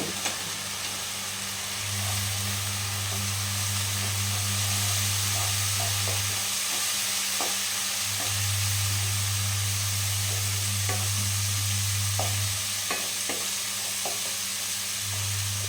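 Ground cumin, coriander and turmeric powder fry and get stirred in a pan for a Bengali rui fish curry, giving a steady sizzle with scraping strokes. A low hum rises and falls over the sizzle, and no one speaks.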